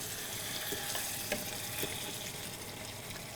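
Mutton is added to a pan with boiled potatoes for aloo gosht, and a soft, faint frying sizzle follows, with a few light clinks of stirring.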